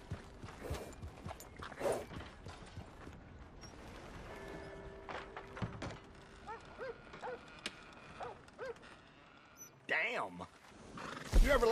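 Horse in the video game Red Dead Redemption 2 neighing and whinnying at a stable, with hoof clip-clops and other game sounds, heard intermittently under and between people talking.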